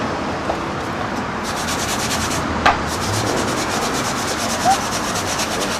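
Rust being scrubbed off an Xbox part: continuous close abrasive rubbing and scraping throughout, fairly loud, with a couple of small knocks.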